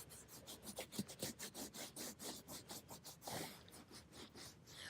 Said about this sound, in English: You really want to apply it liberally because this is really going to soak in and condition your leather.